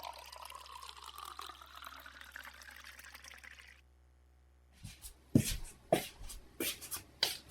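Drinking water runs and pours into a container with a rising filling tone that stops abruptly, followed by clinks and knocks as it is handled, quiet and close with no talk.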